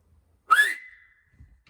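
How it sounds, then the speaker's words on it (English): A person whistles while shaping the mouth to hit a resonant note: one short, clear whistle that swoops upward and then holds a steady tone before fading, alone in a quiet room with only a faint rustle afterward. "Similarly with whistling, I can change the shape of my mouth, etc., and tighten, various things."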